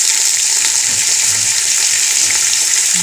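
Carrots sizzle in hot oil with browned onions for a vegetable pulao, a constant bright frying hiss with soft stirring scrapes, close and loud throughout.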